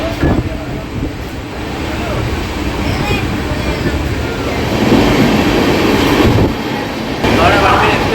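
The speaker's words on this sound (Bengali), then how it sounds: "এই যে হচ্ছে হাওড়া বার্মিন সুপারফাস্ট এক্সপ্রেস" A Howrah Barmer Superfast Express train at platform eight of an Indian railway station gives a steady, loud rail rumble with rattling carriages throughout, growing heavier toward the end, with voices mixed in.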